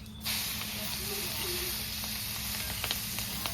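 Chopped onion dropped into hot oil left from frying fish, already tempered with bay leaf, dried red chilli and whole cumin, bursting into a sudden loud sizzle that settles into a steady, close hiss with small pops.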